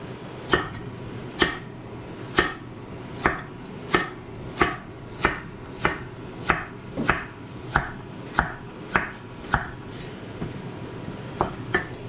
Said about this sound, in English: Just roughly chop them up. And then we're going to do 2 carrots as well.